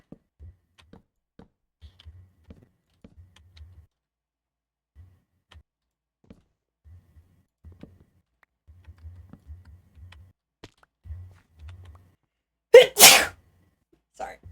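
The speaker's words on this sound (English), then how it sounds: "I always end up sneezing a lot afterward." One person sneezes loudly near the end after a stretch of quiet, scattered soft clicks and taps like typing.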